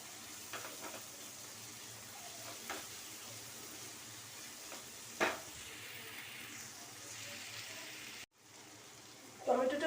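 Tomatoes fry with salt in a hot pan, a steady soft sizzle running throughout with a few brief clatters of utensils, fairly quiet and without talk.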